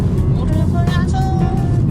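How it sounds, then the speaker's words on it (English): Motorcycles lean low through a curve on a scenic drive in Big Bend National Park, Texas, a loud continuous engine and road roar with rising whine, heard close with a voice talking over it. "摩托车压车，"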